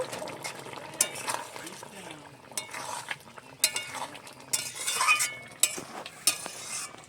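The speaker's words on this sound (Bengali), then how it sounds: "আর দিচ্ছি গোলমরিচের গুঁড়ো একটু নেড়ে ছেড়ে নেব" A spoon stirs a pointed gourd, potato and egg curry seasoned with ground pepper in a pan, making soft, irregular scraping and bubbling sounds with occasional clinks of the utensil against the pot.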